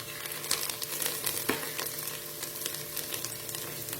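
Chopped onions and peanuts sizzle steadily in a pan for bhel, with a continuous hissing fry broken by occasional stirring scrapes and pops, close up and with no talking.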